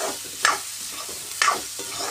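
Chopped onions stirred and frying in a hot pan for a home-cooked tomato saar and leafy greens dish, with two distinct scraping stir strokes over a steady low sizzle, close and moderately quiet, no talking.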